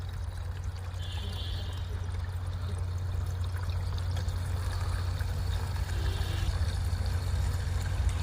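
Diesel mixed with water streams out of the fuel system of a Bolero BS6 with a no-start problem, a continuous splashing pour over a low background hum, steady for several seconds with no talk.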